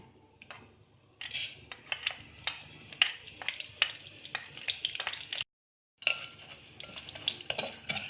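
Whole spices and cumin fry in hot ghee while a metal spoon stirs, giving a soft sizzle under repeated close scrapes and clinks with a brief gap near the end.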